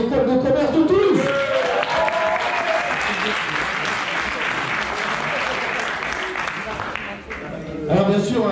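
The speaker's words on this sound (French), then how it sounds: "Un tonnerre d'applaudissements pour l'école de commerce de Toulouse." A crowd gives loud, sustained applause for the Toulouse business school at the welcome conference of the 2019 Trail Roc de la Lune, with dense clapping filling the room and voices heard over it at the start and end.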